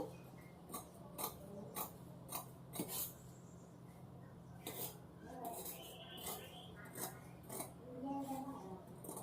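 Scissors snip through fabric while a garment front piece is cut out for sewing, producing a steady series of crisp, close clicks and shearing snips at a fairly regular pace over a faint background hum.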